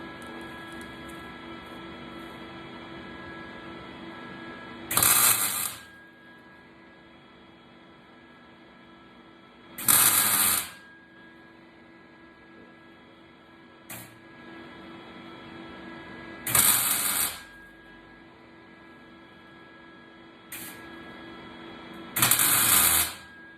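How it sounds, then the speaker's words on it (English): Welding patch panels into the body of a 1969 Ford Bronco: bright crackling bursts of a second or so, repeating every few seconds over a constant background hum. "do some welding over here."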